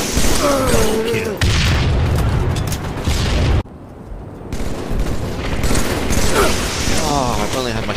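Booming shotgun blasts in the video game Halo, loud and punchy, mixed with game effects and a brief sharp drop in the middle, while a player talks over the action.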